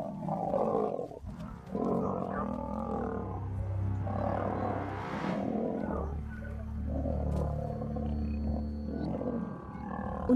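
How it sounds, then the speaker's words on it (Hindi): Male lions fighting in Sabi Sand, deep, rumbling roars and snarls from animals close by, rising and falling in long overlapping bursts across the whole stretch. "उनके दहाड़ने की आवाजें दिल दहला देने वाली थीं।"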